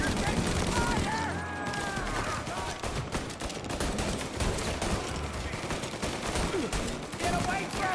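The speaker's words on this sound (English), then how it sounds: "They keep shooting!" Sustained gunfire from a firefight in the video game Mafia Definitive Edition, with rapid overlapping shots and bursts running throughout under excited voices shouting.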